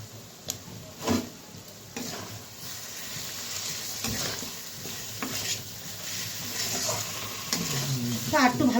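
Chopped tomatoes sizzle in a pan for a potato and foli fish curry, with steady frying hiss broken by the scrape and clink of a spatula stirring against the pan.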